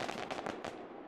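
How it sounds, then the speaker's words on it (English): Fireworks explode in the multiplayer video game Fireworks Frenzy, a dense, loud run of rapid crackling bursts that overlap for about a second before fading into a short hissing tail. "Fireworks Frenzy is a small multiplayer fireworks game with hundreds of fireworks and multiple maps"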